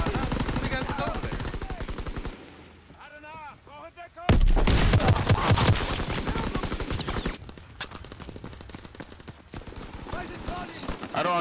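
Light machine gun fire in Call of Duty WWII, with rapid bursts of automatic shots, a brief lull, then a loud sustained burst and continued gunfire against battle noise, with a player talking in places.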